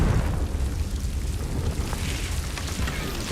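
Confringo fire-blast spell in Hogwarts Legacy, heard as a loud, sustained rumbling roar of explosive, crackling noise filling the whole clip with no talk.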